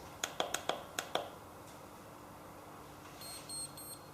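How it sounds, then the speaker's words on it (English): Several sharp electronic beeps in quick succession from a galvanic facial machine making skin contact, followed by a few faint high tones later over a quiet background. "we hear the beeps initially telling me that we have made contact and we're ready to begin"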